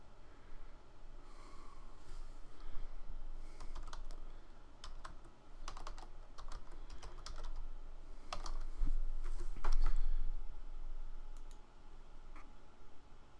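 Computer keyboard keys tapped in irregular bursts while a password is entered during a Windows 8 install, close and fairly quiet, with soft breathing and no talk.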